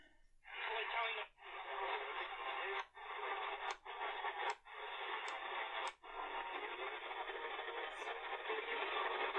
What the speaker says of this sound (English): Very cool fine music. Probably from a daytime station before it's powering down.